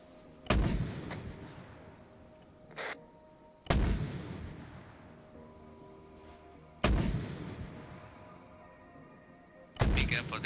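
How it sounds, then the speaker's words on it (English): Mortar rounds fire in a stealth-op video game, four heavy booming launches spaced a few seconds apart, each trailing off into a rumbling echo, with faint radio chatter in between. "Be careful, there is a mortar fire."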